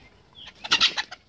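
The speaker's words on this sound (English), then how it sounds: "I don't know how to catch a chicken." Chicken clucking in a backyard flock, a short cluster of several quick clucks at close range with no talking.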